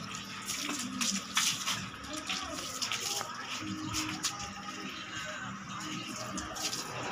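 Water splashing and pouring during a bath, a continuous broad wash of sound with a few louder splashes and faint voices underneath.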